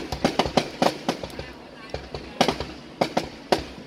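Tet 2024 fireworks bursting over My Tho, Tien Giang, with repeated sharp crackling pops in irregular clusters, fairly close and loud, under faint crowd noise.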